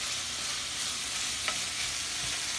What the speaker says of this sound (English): So the meat is browning.